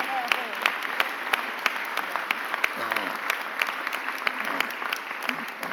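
A press conference crowd breaks into applause, steady clapping from many hands lasting several seconds, with some faint voices in the background.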